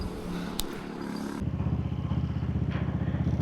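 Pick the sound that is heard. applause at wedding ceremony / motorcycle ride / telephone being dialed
motorcycle ride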